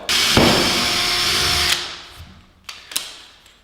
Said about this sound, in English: So don't press too hard when you're drilling through here